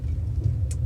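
A car drives along a road, its low steady engine and tyre rumble filling the cabin continuously, with a brief faint high click partway through and no talking.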